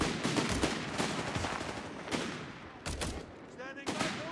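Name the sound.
gunfire in the video game Company of Heroes 3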